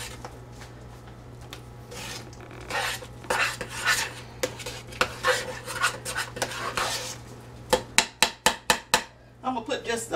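A spoon working through a pot of fluffy homemade old-fashioned mashed potatoes, soft repeated scraping and rubbing strokes over a low hum, ending in a run of sharper clacks against the pot's side.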